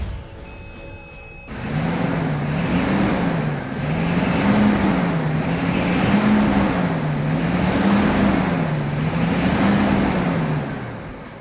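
A 1991 Rolls Royce Silver Spur II engine cranks and catches after a quiet moment, then settles into a smooth, hushed idle. A steady low hum gently rises and falls as it is revved lightly several times.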